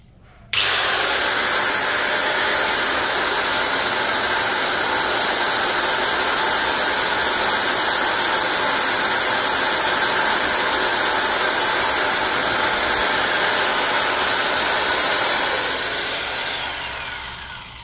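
A DCK KSM04-100B angle grinder spins up and runs with no load, a loud, steady high-pitched whine that holds for about fifteen seconds before starting to wind down; nobody speaks.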